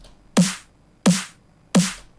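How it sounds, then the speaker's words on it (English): Three compressed drum and bass snare hits, evenly spaced, each a loud bright crack with a thick, sustained, squashed tail, alone and up close. "And with the compression"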